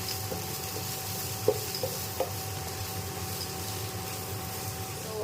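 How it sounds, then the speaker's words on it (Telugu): Carrot and beans fry with chilli powder being stirred in a pan, soft scraping and a few light taps of the spoon against the pan over a steady sizzle, close and quiet. "చిల్లీ పౌడర్, వేసేసి ఇప్పుడు తిప్పేస్తున్నాను."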